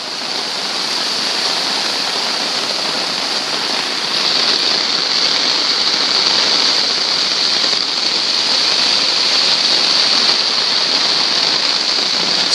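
Floodwater flows through a backyard lying under about a foot and a half of water, a loud continuous rushing hiss like a stream or heavy rain that holds steady throughout, with no voices.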